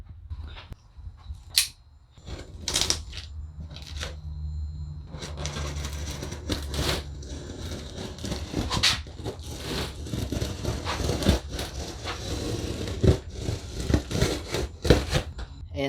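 A huge cardboard shipping box, about five feet tall, is sliced and torn open up close, with crackling, scraping and crinkling cardboard at first in scattered bursts, then in a dense continuous rustle.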